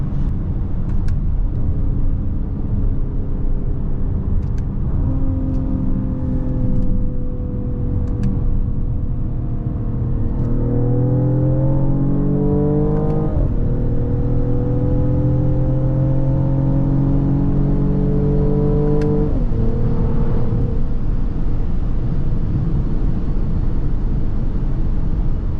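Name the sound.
Mercedes-AMG GLE 53 exhaust muffler sound while driving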